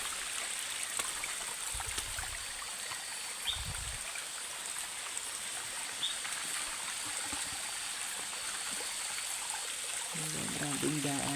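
Water flowing down a steep slope at night beside a climbing trail, a faint continuous trickling stream hiss throughout, with a couple of soft low thumps and light rustling from someone moving nearby.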